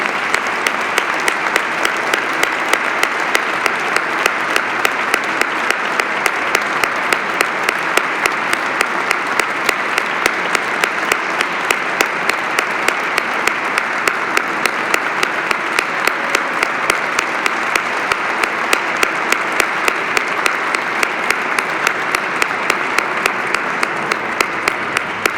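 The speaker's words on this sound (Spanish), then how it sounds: "Un fuerte aplauso." A crowd gives strong, sustained applause at the Semana Santa proclamation in Callosa de Segura, dense, loud, even clapping from many hands that continues unbroken throughout with no speech.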